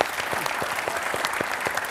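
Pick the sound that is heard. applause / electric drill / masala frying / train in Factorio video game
applause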